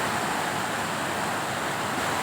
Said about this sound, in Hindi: गधेरा बह रहा है।